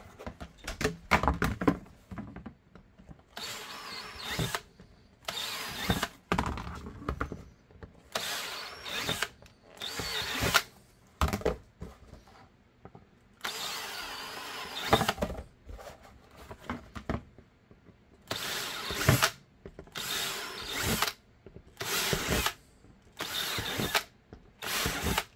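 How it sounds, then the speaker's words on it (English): A power drill bores holes through a holster for an FNX X300 light, with short bursts of whirring drilling repeated in uneven on-off rhythm, close and moderately loud, separated by quiet pauses and handling clatter. "I'm going to drill the retention and then drill out this line"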